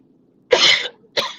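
Two short coughs, the first longer and harsher, the second briefer, close and clear against a quiet background.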